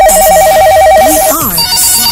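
A telephone rings loud and close, with a repeating warbling electronic ringtone pulsing steadily, then a short rising and falling tone sweep near the end.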